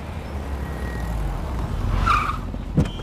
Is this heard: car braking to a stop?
yes